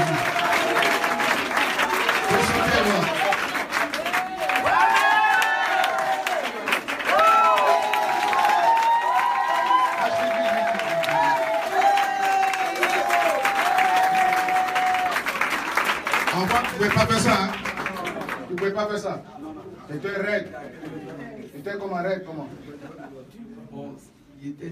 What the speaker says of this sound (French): Est-ce qu'on peut acclamer Jésus de Nazareth? Est-ce qu'on peut acclamer une fois?